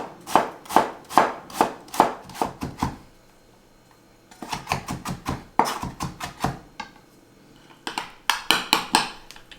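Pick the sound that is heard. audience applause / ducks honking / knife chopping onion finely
knife chopping onion finely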